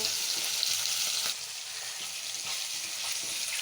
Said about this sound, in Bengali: ইলিশ মাছ বেশি ভাজতে হয় না